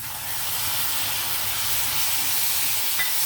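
Tomatoes tipped into hot oil over fried onions in a pan sizzle with a loud, steady hiss that continues evenly throughout, with no talking.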